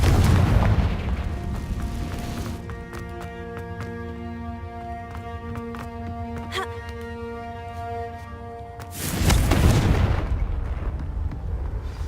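Confringo fire spell from Hogwarts Legacy, a loud booming blast that rolls into a sustained ringing, shimmering magical tone, then a second heavy whooshing burst near the end.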